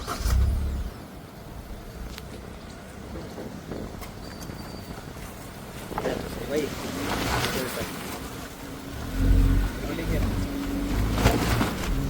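A Toyota Glanza rolls over a rough off-road patch, its engine drone joined by low thumps and bumps from the uneven ground, with someone talking over it.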